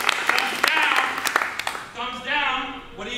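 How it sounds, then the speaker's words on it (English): A studio audience claps and applauds loudly for a live tech comedy show, the dense clapping lasting about two seconds before fading under a voice. "what I'm going to want from you is a lot of clapping"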